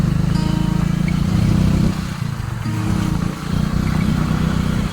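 A motorcycle engine drones steadily as the bike rides out along a village road near Rovale, Kelshi in Dapoli, loud and close, dipping and rising with the throttle and no voices.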